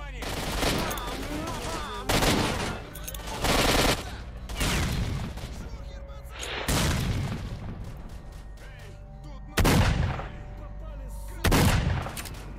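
A shotgun in the shooter S.T.A.L.K.E.R.: Shadow of Chernobyl booms in six loud, separate blasts spaced a second or two apart, each followed by a brief ringing tail.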